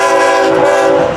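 Loud, close blast of a FEC freight locomotive horn as the train passes, a sustained chord filling the short moment with rumble beneath.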